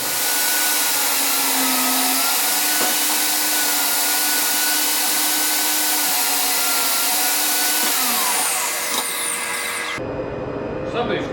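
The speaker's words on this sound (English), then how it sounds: "I'm going to start cutting on the saw." Saw cutting wood for a kitchen cabinet build, producing a loud, steady high-pitched whine that holds for several seconds before shifting in pitch and then cutting off abruptly near the end.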